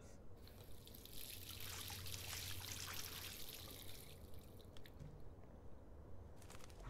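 Tap water running into a sink in the game Life is Strange, a steady close hiss of flowing water that fades out near the end, with faint clicks and no talking.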